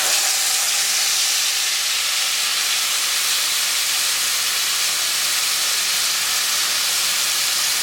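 Marinated chicken frying in about three tablespoons of oil in a frying pan gives a loud, steady, hissing sizzle that holds evenly throughout, with no voices.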